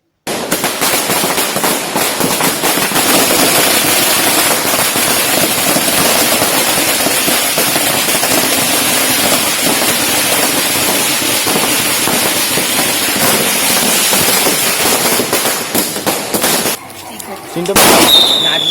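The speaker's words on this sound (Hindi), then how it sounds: "आलीशान आतिशबाजी कर खुशियां मनाई" Continuous loud crackling of Diwali firecrackers and fireworks at a celebration, dense rapid bursts going off nonstop, with a brief lull near the end before the popping resumes.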